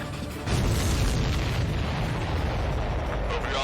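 Heavy explosions in the Ace Combat 7 jet combat game after a missile strikes a supply ship, a loud rumbling boom that swells after half a second and rolls on continuously with crackling bursts.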